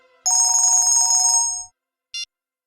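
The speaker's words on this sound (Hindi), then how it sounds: "आप तो मोबाइल की रिंगटोन निकाल रहे हैं।" A loud electronic phone ringtone plays a rapid warbling melody for over a second, then stops, followed by a brief short beep.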